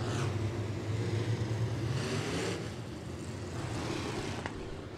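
IMCA stock cars roar around a dirt race track in a steady wash of distant engine drone, swelling and fading as packs pass, with no voices over them.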